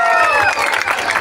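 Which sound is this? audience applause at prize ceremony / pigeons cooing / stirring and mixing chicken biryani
audience applause at prize ceremony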